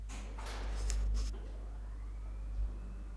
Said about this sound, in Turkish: bu katta da gayet güzel bir şekilde kapı operatörümüz çalışıyor